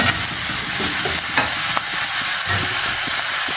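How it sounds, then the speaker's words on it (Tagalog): Vegetables for pancit miki guisado stir-fried in a pan, a steady loud sizzle with scraping and tossing clatters of the utensil throughout. "Gulay lang niluluto natin dito. Hakuin na natin siya."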